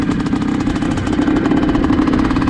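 A Suzuki RM 465 motorcycle engine running after being started, a loud close rapid thumping idle with a steady low rhythmic pulse.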